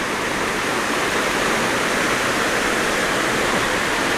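Water rushes steadily down a stream below the second tier of Huai Mae Khamin waterfall after a storm, a loud, unbroken roar with no voices over it.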